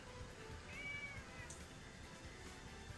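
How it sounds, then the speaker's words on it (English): A pet cat named Boise gives a single faint, rising meow indoors, alone against a quiet background hum. "Boise decided to come in and say hello. Boise the cat."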